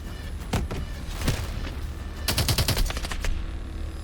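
Machine gun fire in Call of Duty Advanced Warfare: a short burst, a pause, then a longer rapid volley of loud, close shots over steady battlefield rumble.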